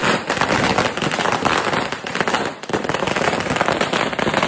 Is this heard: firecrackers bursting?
yes